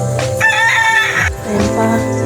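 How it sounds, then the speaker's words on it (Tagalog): A white gamecock rooster crows loudly and close by, a drawn-out harmonic call that breaks off and then rises into a second crow, with faint background noise and no speech. "Ayan yung panabong."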